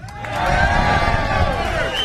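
A large crowd cheers and shouts continuously at an outdoor Get Out the Vote political rally in El Paso, Texas, the roar loud and sustained throughout.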